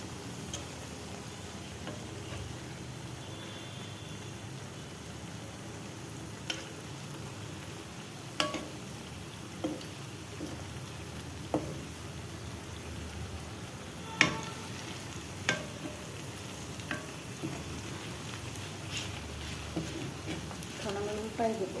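Pitha frying in a pan, a steady low sizzle running throughout with scattered sharp ticks and clicks, close up, with no talk over it.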